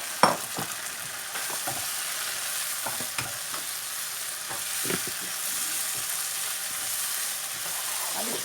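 Bread crust is stirred and mixed with spices in a frying pan, with repeated scraping strokes over a constant hiss of sizzling, close and fairly loud, with no talking.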